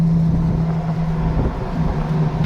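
A 2023 Ram TRX fitted with an AWE exhaust, a loud, deep steady engine drone heard from inside the cabin with windows down, with wind rush and a brief rise in the engine note.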